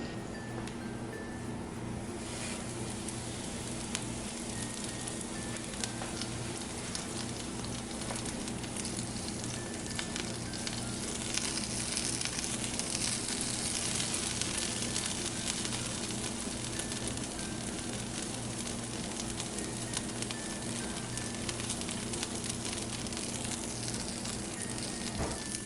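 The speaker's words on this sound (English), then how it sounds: "warm up the pan, add a little bit of oil, and go ahead and get this browned cheese melted" Oiled pan of Philly cheesesteak quesadilla filling with browned cheese melting, giving a steady, moderately loud sizzle and crackle that runs unbroken with no voices.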